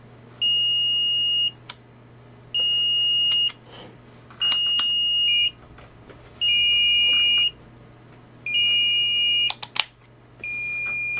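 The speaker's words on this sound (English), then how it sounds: "You can hear that 17B is quite a bit louder." A Fluke 17B multimeter's continuity beeper gives six loud, steady high-pitched tones, each about a second long and separated by short gaps, over faint probe clicks and a low background hum.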